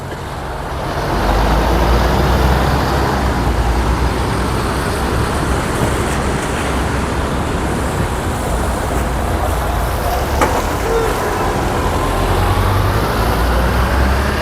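Loud, steady street traffic at a transit hub, with city buses, bendy buses and a trolleybus, heavy engines rumbling and vehicles passing close by in a continuous roar.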